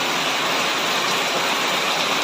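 Heavy rain pours down in a dense, steady hiss, loud and close, with no break and no voices.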